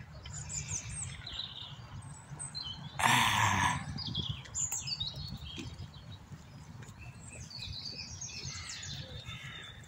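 Many birds chirp and call from several directions in Parc Monceau, Paris, on a cool morning. The calls are scattered and varied over a steady low hum of city ambience, with one brief louder burst of noise near the start.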